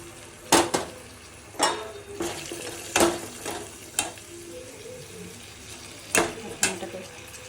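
Chana dal, rajma and ash gourd fry with spices in a pan, a low background sizzle broken by sharp irregular stirring clanks and scrapes of a utensil against the pot, close and uneven in rhythm.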